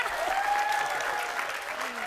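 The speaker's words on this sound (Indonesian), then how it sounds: "tepuk tangan sekali lagi untuk mereka bertiga." Studio audience applause on an Indonesian TV comedy show, a short steady burst of clapping with a faint whistle-like tone through it.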